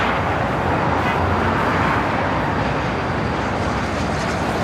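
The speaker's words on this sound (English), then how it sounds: "United Dreamliner now rolling down" A United Boeing 787 Dreamliner rolls down a runway at Los Angeles airport, a steady loud broadband jet roar filling the whole stretch with no talk.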